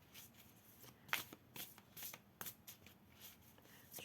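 Oracle cards are shuffled by hand before one is drawn, a quiet, close run of papery riffles and flicks with irregular sharp slaps, with no one talking.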